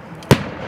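A single Canada Day firework on Salt Spring Island bursts with one sharp, loud bang that decays quickly into a faint crackle, with no voices during the blast.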